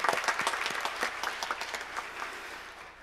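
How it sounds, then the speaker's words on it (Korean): A church congregation applauds during a special dawn revival service, a burst of clapping in a large sanctuary that rises quickly then gradually thins and fades. "하나님께 영광의 박수를 올려드립니다."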